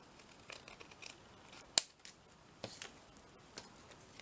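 Scissors cut around a small piece of paper for a paperclip craft, giving faint, close snips at an irregular pace, with one sharper crisp cut standing out.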